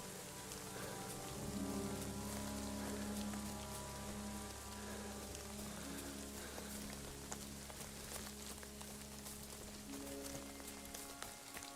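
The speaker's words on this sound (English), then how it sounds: "The rain sounds really good." Steady rain pattering on a surface in the video game Kingdom Come: Deliverance 2, with a low sustained musical drone and tones underneath.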